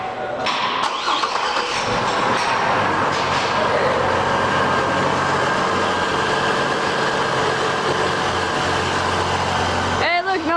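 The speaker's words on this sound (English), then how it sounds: "we are going to go ahead and get her started up and see what happens" A 2004 Chevrolet Trailblazer engine, fresh from a cam position and VVT sensor replacement, cranks briefly and catches, then settles into a steady, loud idle that runs for about ten seconds and cuts off at the end.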